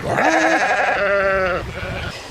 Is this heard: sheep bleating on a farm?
yes